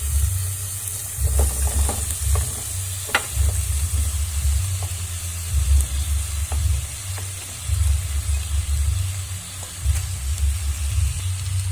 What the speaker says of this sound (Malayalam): ഇതിലേക്ക് നമുക്ക് അരിഞ്ഞ് വെച്ചിരിക്കുന്ന സവാള ചേർത്ത് കൊടുക്കും.